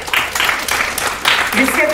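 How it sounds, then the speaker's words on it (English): Applause from an audience at a school prize distribution function, a short burst of clapping swelling in waves while a voice speaks over it. "Can we have a huge round of applause for him?"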